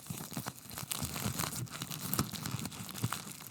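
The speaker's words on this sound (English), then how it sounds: "you just love the tinfoil getting unwrapped" Tinfoil wrapper of a Wendy's Krabby Patty being unwrapped close up, a steady run of crinkling, crackling and tearing foil with sharp bursts throughout.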